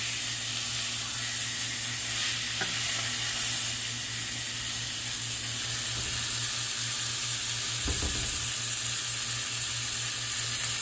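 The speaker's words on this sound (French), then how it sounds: "c'est le steak qui va cuire" Steak frying in a hot pan over lowered heat, a steady broad sizzle and hiss running continuously and loud, with a couple of soft bumps from the pan partway through.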